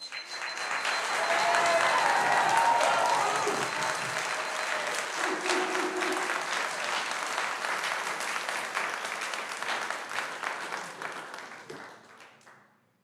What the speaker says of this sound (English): if you please hold your applause to the end